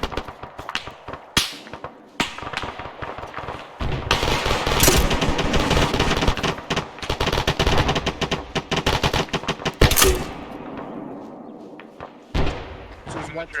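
Machine gun fire during a military field training exercise rattles in loud, rapid bursts with sharp single shots and distant thumps, while soldiers talk over the firing.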